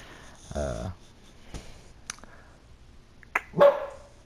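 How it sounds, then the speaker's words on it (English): A dog barks a few separate times, a low gruff woof early on and a sharper, louder bark near the end, with scattered small clicks and quiet stretches between. "Why is my dog barking for no reason?"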